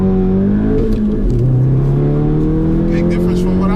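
A modified Volkswagen Golf GTI in sport mode pulls hard, its engine note rising and holding through the gears. The sound is loud and close from inside the cabin, and a voice speaks briefly over it.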